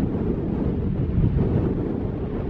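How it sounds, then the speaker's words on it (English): Strong wind blows across a rocky sea shore, a loud, steady rush with buffeting on the microphone and no other clear sounds. "It's because it's pretty windy"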